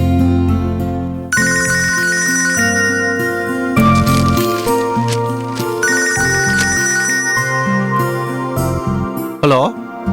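Telephone ringtone in a Tamil TV serial, a loud melodic electronic tune that plays for several seconds in repeated phrases with a short pause partway through.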